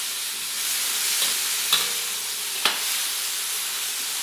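Long green chili peppers sauté in a pan for sinigang, giving a steady close sizzle broken by a few sharp stirring clicks.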